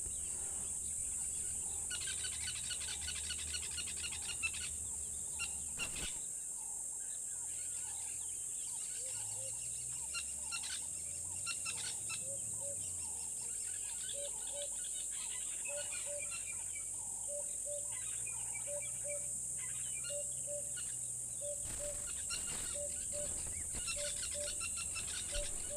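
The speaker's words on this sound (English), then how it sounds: "it's just beautiful when you can hear all of the birds. The kingfishers, the lapwings, the geese, the oxpeckers," Outdoor nature soundscape with birds calling, fitting kingfishers, lapwings and geese, as repeated chirps and calls over a steady insect-like hiss and a continuous background drone, with no talk.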